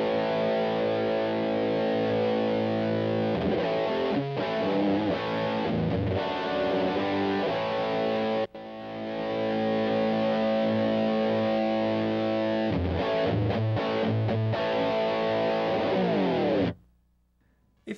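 Heavily distorted electric guitar run through the distortion effect of a KORG D1200 MKII recorder, sustained chords ringing loud and dense with a brief cut midway and a sudden stop near the end.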